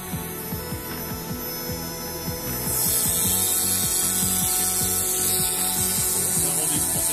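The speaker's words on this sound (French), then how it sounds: "c'est parti pour la découpe du panneau de contrôle du box" Cutting round holes and contours into a control panel with a power tool, a steady grinding buzz with repeated low rhythmic pulses that grows louder and harsher partway through, close and continuous with no talking.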